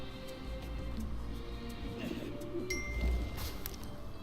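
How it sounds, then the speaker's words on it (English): Carrier pigeon cooing in the Blade & Soul video game, soft repeated coos set against a loud, steady game ambience with occasional chimes. "There you are, carrier pigeon."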